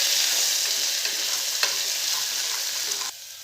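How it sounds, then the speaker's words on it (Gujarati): Crushed ginger and green chilies sauté in hot oil in a pan for potato curry, giving a steady close sizzle with faint stirring scrapes throughout and a sudden drop in level near the end, with no voices. "હવે આપણે અડધી મિનિટ જેવું આદુ મરચાંને સાતળી લઈશું"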